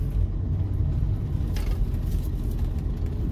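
A Ford Mustang on its first real test drive gives off a low, steady engine rumble heard from inside the car, with a faint higher rattle briefly rising over the drone partway through.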